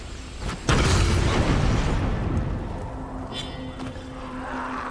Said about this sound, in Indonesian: Ledakan. Fire in the hole.